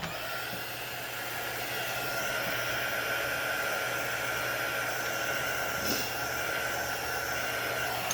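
A hair dryer blows steadily to dry paint on a handmade door hanger, a continuous even whoosh held at constant loudness throughout with no pauses.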